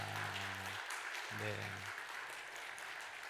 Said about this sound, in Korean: 자, 우리 환영의 박수 한번 크게 하겠습니다.